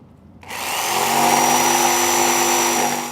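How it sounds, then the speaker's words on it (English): Power tool cutting notches into an I.Dekk decking board, one loud continuous whining run that starts abruptly after a short quiet moment and holds steady to the end. "I've cut the notches out"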